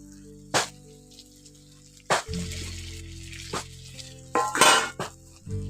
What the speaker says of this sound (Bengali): এবার এর মধ্যে দিয়ে দিচ্ছি ভেজে রাখা সয়াবিন আর ডিমগুলো।